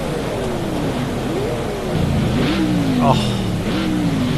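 In a racing video game at Hockenheim, a race car engine revs up and down in repeated rising and falling sweeps, loud and close, over a steady background hum, with a brief exclamation from a voice.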